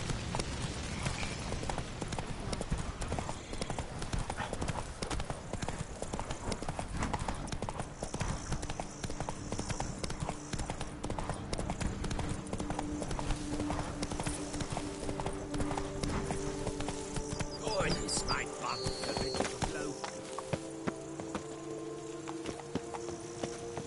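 Roach the horse's hooves clip-clop steadily on the ground in The Witcher 3, a dense continuous patter with occasional snorts and game ambience, all loud and close.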